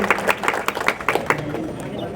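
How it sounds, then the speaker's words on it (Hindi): Audience clapping to welcome guests at a Hindi-language public gathering about a village panchayat secretariat, a short burst of scattered, uneven claps that thins out and fades after about a second and a half. "आप लोगों से चाहते हैं इनका ताली बजा करके स्वागत करिए"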